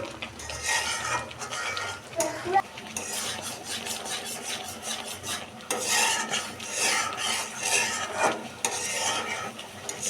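Mango pulp stirred continuously in a pan while cooking down into mango leather, with steady scraping and rasping strokes of a spoon against the metal and occasional clinks, close and fairly loud, no talking.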